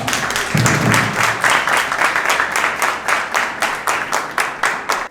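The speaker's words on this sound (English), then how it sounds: "Let's give her a warm round of applause." Audience at a debate competition claps in a steady, evenly spaced rhythm, the claps loud and close and continuing for several seconds without speech.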